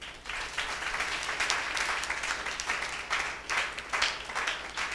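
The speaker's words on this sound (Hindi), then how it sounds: "जोर से तालियां बजाइए" A church congregation claps enthusiastically during a service celebrating a baptism, sustained dense applause with rising and falling swells over five seconds, fairly close and with no speech on top.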